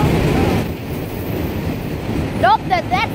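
A long CSX autorack freight train rolls steadily past close by with a continuous loud rumble of railcars, and brief high wheel squeals ring out near the end.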